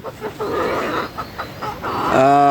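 Sonali chickens cluck in a close, busy series of short calls, ending with a louder drawn-out, tonal squawk from one hen.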